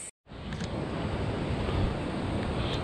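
A waterfall on a rainy mountain trail near Bhimdwar on the Shrikhand Mahadev route roars with a dense, steady rush of water, close and continuous after a brief cut at the start.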